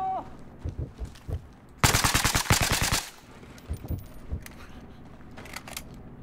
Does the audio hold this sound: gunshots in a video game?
yes